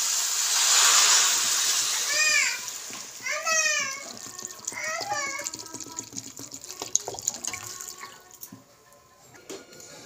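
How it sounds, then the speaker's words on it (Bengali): Water poured into peas frying in a pan for ghugni sets off a loud hissing rush that fades into a softer bubbling simmer, with bright chirping voices or squeaks overlapping partway through. "এবার এতে জল দিয়ে দেবো।"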